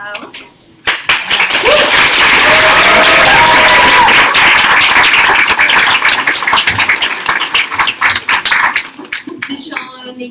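A crowd at a student center welcome event bursts into loud, sustained applause with cheering and voices, the clapping thinning into scattered individual claps as it fades out.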